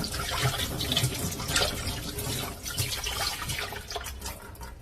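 Hands rinsed under running water from a tap, a steady close splashing and trickling that lasts throughout with small drips, no voices.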